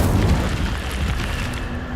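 An Incendio fire spell cast in Hogwarts Legacy: a dense, continuous roaring whoosh of flame, loud and close, holding steady for about two seconds with no voice over it.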